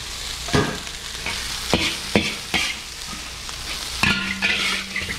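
Rice frying in a pan for fried rice: a steady hiss of sizzling oil broken by several scraping stir strokes of a utensil, close and moderately loud with no one speaking.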